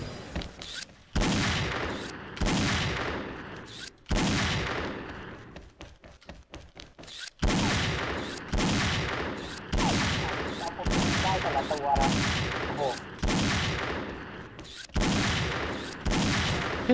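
Sniper rifle shots in the shooter XSHOT, about ten heavy single reports spaced roughly one to two seconds apart, each loud and sharp with a ringing tail that fades before the next.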